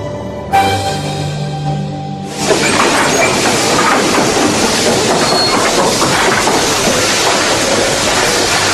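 In an audio drama sound effect, a train runs on rails from Waterloo toward Leatherhead. A soft musical tone gives way to a loud, continuous rumble and clatter of wheels that fills the rest of the scene.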